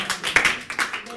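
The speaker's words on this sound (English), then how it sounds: "Clap for Jesus" Worship congregation clapping for Jesus during a church service, several sharp handclaps spaced irregularly, close and fairly loud, mixed with voices speaking.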